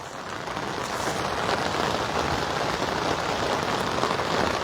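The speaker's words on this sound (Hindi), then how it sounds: "सुबह से ही जो बारिश है वो जारी है।" Heavy rain falls steadily in Siliguri during a storm alert, a dense, loud, continuous hiss with no break or voices over nearly five seconds.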